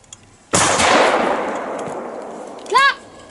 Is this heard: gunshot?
yes